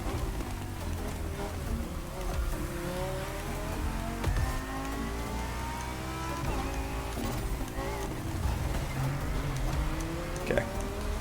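A 1964 Porsche 911 in the racing game The Crew accelerates hard on nitrous, its engine droning with rising gear-change sweeps under a steady wash of road and wind noise throughout.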